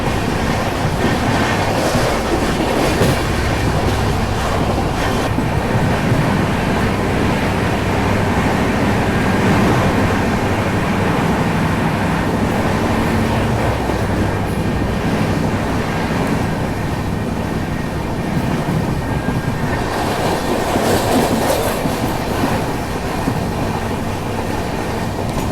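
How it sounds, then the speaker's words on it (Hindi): Karnavati Express passenger train running at full speed between Ahmedabad and Mumbai, heard from inside a coach as a loud, continuous rumble and rattle with steady track noise throughout, no talking. "और अब जाके ट्रेन अपनी मैक्स रफ्तार में चल रही है।"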